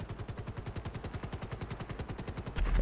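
Rapid gunfire in GTA 5, a steady stream of evenly spaced shots lasting nearly three seconds, loud and close, with no talking over it.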